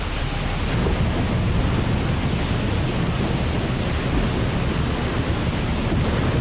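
Ocean waves in the video game Age of Water form a dense, continuous rush and roar of surf with no distinct breaks, loud and close throughout.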